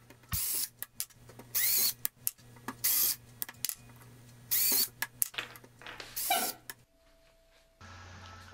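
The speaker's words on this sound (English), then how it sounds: "I'm using a 3 16th inch drill bit for th these holes" Several short bursts of a power drill with a 3/16-inch bit whirring through plastic pipe caps in quick succession, close and fairly loud, separated by pauses, ending with a quieter steady hum.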